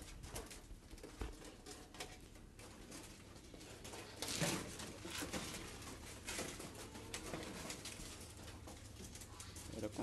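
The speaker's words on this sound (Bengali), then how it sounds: "কবুতর উড়ে আসে বসার চেষ্টা করতেছে" Pigeons coo softly at a home loft amid steady background noise, with flapping and movement as birds fly in and try to land; no one speaks.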